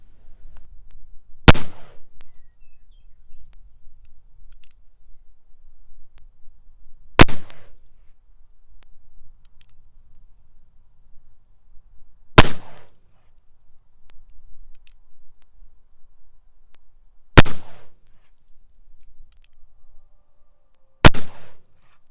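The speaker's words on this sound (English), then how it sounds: "Let's go fire 6 shots over the chronograph and see what results we get." Five sharp, loud muzzleloader shots fired with Pyrodex pellets over a chronograph, each a single crack spaced several seconds apart, with quiet between them.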